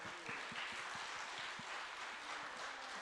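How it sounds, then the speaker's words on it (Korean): A church congregation at a Friday late-night prayer meeting gives a round of applause, a soft, distant and steady wash of clapping from many hands, with faint low thumps underneath and no talk over it. "하나님께 영광 돌리는 박수 한번 하시고"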